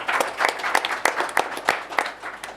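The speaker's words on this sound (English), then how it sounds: "Let's have a round of applause." At a boxing press conference in Saudi Arabia, an audience applauds with a moderate patter of claps and sharper pops standing out, fairly close and steady throughout.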